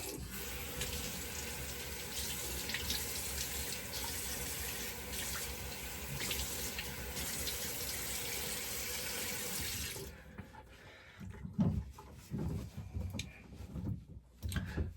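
A tap runs into a sink for a rinse during wet shaving, a steady close stream of water that stops after about ten seconds, followed by a few faint handling clatters and knocks.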